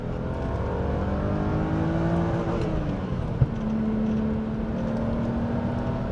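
A classic BMW M635 CSi with six throttle bodies is revved hard at full throttle. A steady, loud engine drone rises and falls in pitch, with one sharp click midway and no talking.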